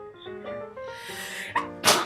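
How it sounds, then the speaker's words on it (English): A sneeze bursts out near the end, a sharp broadband blast after a brief inhaled build-up, over background chatter and faint tones in a casual indoor setting. "You sneezed like the first time ever."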